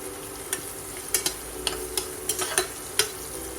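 Ginger, garlic and green chili being stirred in hot oil in a pan for Kathiyawadi vaghareli khichdi, with a steady soft sizzle and several sharp scrapes and clinks of the spoon against the pan, no talking.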